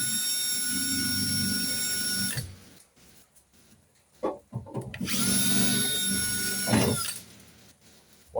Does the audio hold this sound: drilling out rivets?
yes